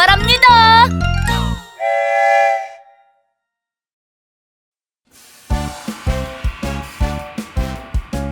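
A whistle-like train tone sounds in a bright Korean children's song about riding a train on a world trip, held briefly between sung lines and then followed by bouncy rhythmic music.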